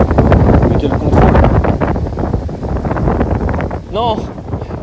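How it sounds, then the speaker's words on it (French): Strong wind buffets the microphone outdoors during a sailing-board session, a steady loud roar with gusting rumble and flutter lasting throughout, with a brief faint voice near the end. "avec le vent c'est pas facile ce qu'il fait"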